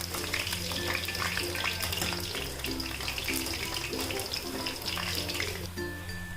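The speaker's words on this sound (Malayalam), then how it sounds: "അപ്പോൾ നമ്മുടെ പൊട്ടാറ്റോ ഇവിടെ നന്നായിട്ട് ഫ്രൈ ആയിട്ട് വന്നിട്ടുണ്ട്." Potato pieces deep frying in hot oil for Potato 65 give a dense, continuous sizzle with crackling pops and occasional stirring scrapes, steady and close throughout.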